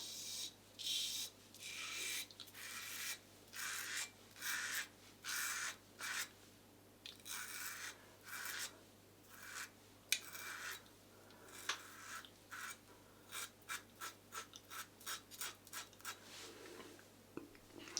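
Close, quiet rasping strokes of a Yates titanium safety razor fitted with a Feather stainless blade, drawn across about 36 hours of facial stubble, in short rhythmic passes that speed into quicker, choppier strokes toward the end.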